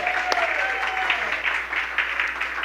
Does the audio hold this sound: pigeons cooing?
no